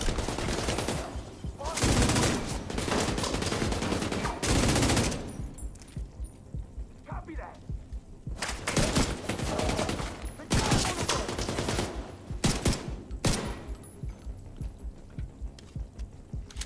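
Light machine gun fire in the shooter game The Division 2, loud bursts of automatic fire separated by short pauses, with sustained volleys near the start and again midway.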